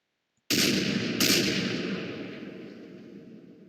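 A gun from the Minecraft Techguns mod fires two loud, sharp blasts in quick succession after a moment of silence, followed by a long, fading rumble.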